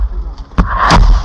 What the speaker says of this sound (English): The explosion shook the ground, but the Ukrainian soldiers managed to pull back just in time, barely escaping the blast.